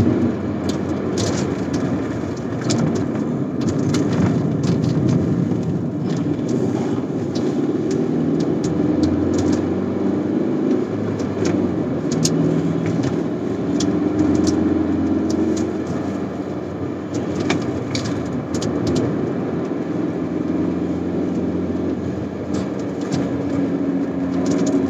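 A Proton Iriz 1.6 with a manual gearbox accelerating uphill in fourth gear on a mountain road, a steady loud engine drone with road and wind noise under it and no pauses.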